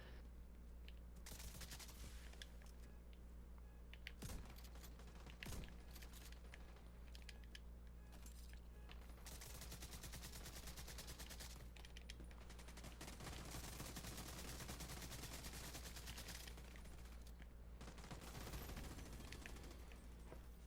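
Rapid gunfire from a light machine gun and other weapons in The Division 2 video game, sustained dense bursts with brief pauses and sharp louder shots, fairly faint overall.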